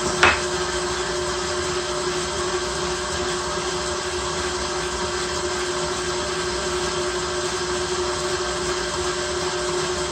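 An electric mixer beats soft butter for peanut butter cookies, a steady loud motor whine running continuously after a brief bump at the start, alone without talk.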